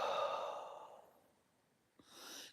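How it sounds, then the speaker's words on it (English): A slow, deep breath during morning meditation: a long airy breath fades out over a second, then after a short pause a second breath starts with a soft click, close and quiet, without speech. "So I'm breathing into my stomach right now, and I purposely like push my stomach out as far as I can"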